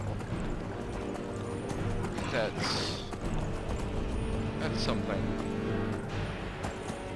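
Horse hooves clip-clop at a steady walking pace in the Skyrim video game with the Requiem mod, heard alongside game ambience, a brief whinny and someone talking over it.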